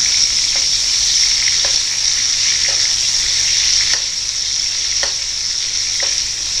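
Thick pork chop frying in hot oil with butter, salt and ground pepper, a steady close sizzle that holds throughout, with a few faint ticks and pops every second or so.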